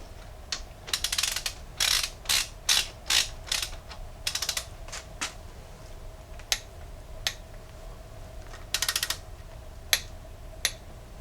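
Ratcheting wrench tightening rocker arm bolts on a Jeep 4.0L inline-six in a Cherokee XJ, heard as bursts of quick clicking strokes and isolated single clicks close by, with a faint steady hum underneath and no talking.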